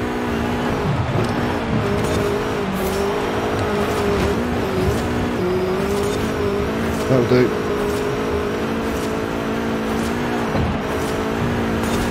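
Renault Turbo 1980 rally car engine in Forza Horizon 5, a steady droning roar holding pitch with brief dips and surges as it races on dirt, while someone talks over it.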